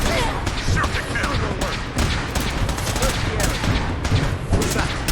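Dense, rapid bursts of gunfire rattle almost nonstop in a Fallout 4 battle against mutants, close and loud, with booming thumps and shouted voices mixed in.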